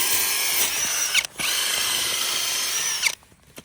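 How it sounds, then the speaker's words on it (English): A large ice drill churns through lake ice about six inches thick, a loud, steady grinding that drops out briefly and then stops near the end. "All right, we're gonna drill."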